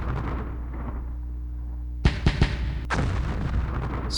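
War strategy game combat on the Western Front with armored units: a low rumble, then a quick cluster of sharp booming shots and a heavier blast near the end.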